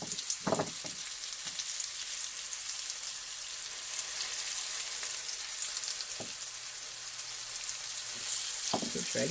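Turkey cutlets dredged in flour and egg fry in a pan over medium heat, giving a steady, close sizzle with a few small pops and clinks throughout.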